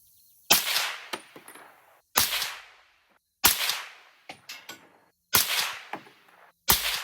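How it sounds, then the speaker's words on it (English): Five suppressed shots from a PSA 8.5-inch .338 ARC rifle with an AAC suppressor, each a sharp loud crack with a short decaying tail, spaced about a second or more apart, with faint clinks between them. "Then I put the can on, and there's 5 shots."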